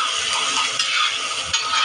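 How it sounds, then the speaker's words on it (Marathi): Chopped onions sautéing in a pan for a khurasni vegetable dish, with a steady, close broadband hiss and sizzle and a couple of soft stirring scrapes, no voices. "आपण कांद्याला गोल्डन ब्राऊन कलर येईपर्यंत परतणार आहोत"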